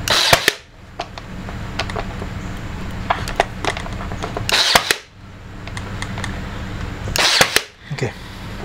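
A nail gun drives 1 inch brads into wood, giving sharp, close pneumatic snaps in a few separate clusters spread over several seconds, with quieter workshop noise between them.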